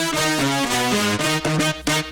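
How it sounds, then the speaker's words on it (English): Bright synth line with distortion and chorus applied, a thick gritty tone moving through quick stepwise notes, loud and continuous with no talking. "I'm gonna apply some distortion and some chorus type of effect"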